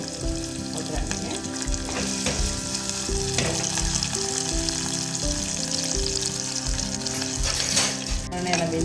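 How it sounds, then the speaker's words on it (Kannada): Dry red chilli tempering in a pan with onion and green chilli, a loud continuous sizzle and crackle layered with rhythmic stirring scrapes throughout, close and busy. "ಒಂದು ಒಣಮೆಣಸಿನ್ಕಾಯಿ ಹಾಕ್ತೀನಿ ಒಗ್ಗರಣೆಗೆ"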